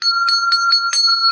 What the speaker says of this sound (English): ringing the bell for a real smile